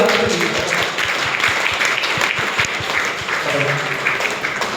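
An audience claps for a company CEO at a jewellery business gathering; a dense, steady patter of applause runs throughout with a voice speaking over it.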